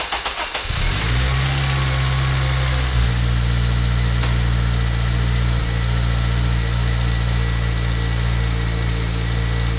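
A Honda Civic engine cranks and catches after repair work, then settles into a steady, loud idle. A brief higher rev marks the start before the engine evens out into a constant hum.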